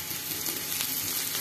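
Chopped garlic and onion sizzle steadily in a hot pan for a dish of sunsuniya greens, a close, even hiss with no pauses.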